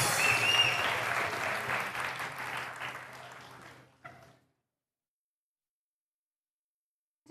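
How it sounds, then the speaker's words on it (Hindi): Audience applause welcoming a contestant onto the stage at a televised Pakistani singing competition finale, loud and sustained clapping for about four seconds before cutting off, then silence. "तो जोरदार तालियों में हम वेलकम करेंगे तरब नफीस को।"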